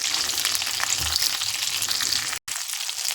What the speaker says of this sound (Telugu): ఇదిగో పచ్చిమిరపకాయలు ఈ రకంగా వేగాలి